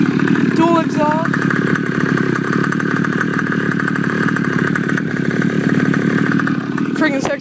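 A high-performance engine with dual exhaust idles steadily up close with a continuous rumbling, buzzing drone that holds throughout, while people talk over it.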